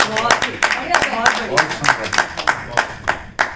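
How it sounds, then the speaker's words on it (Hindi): At a group poetry session, an audience claps for a poet in a fairly sparse, rhythmic burst of close hand claps. Talk carries on over the clapping. "जोरदार तालियां मिश्र जी के लिए, इतनी बढ़िया रचना के लिए"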